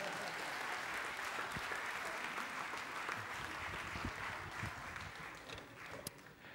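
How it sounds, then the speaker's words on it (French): A church congregation at a French-language worship service gives a few seconds of steady, full applause. The clapping comes from a large room and fades slightly near the end. "On peut l'applaudir."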